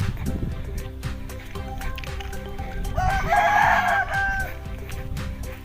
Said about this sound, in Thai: เจ้าไก่น้อย